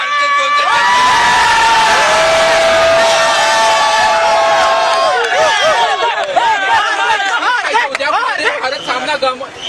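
Cricket fans celebrate India's T20 World Cup win in the streets of Nashik, a dense crowd cheering and shouting continuously up close, with whoops and chanting voices rising over the steady roar.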